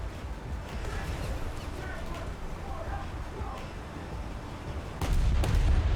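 Cruiser naval guns boom in a naval battle video game, with muffled firing and crackling blasts under a low rumble, and a heavier, louder salvo near the end.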